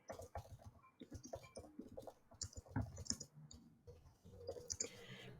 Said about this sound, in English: So all you have to do is just type the name of the task.